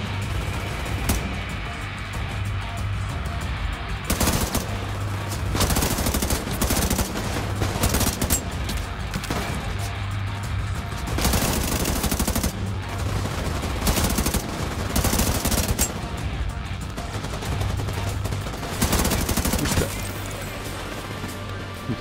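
Submachine gun fire in the shooter The Division 2: repeated loud, close bursts of rapid automatic shots, with a short pause between bursts and a low engine-like drone underneath.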